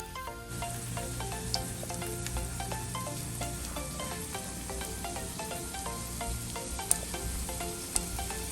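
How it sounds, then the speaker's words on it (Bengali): Bengali poppy seed fritters (posto bora) deep-frying in oil, a steady close hiss of bubbling fat with fine crackles and a couple of sharp pops, running throughout with no talking. "আর একই রকমভাবে বাকি 3টে বড়াকেও ভেজে নিচ্ছি"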